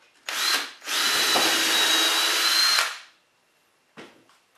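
A Ryobi 4V cordless screwdriver whirs in two bursts, the second long and steady as it drives a 2.5-inch screw into a wooden saw horse, followed by a brief final tap.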